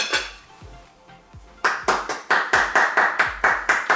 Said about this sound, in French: On applaudit le chef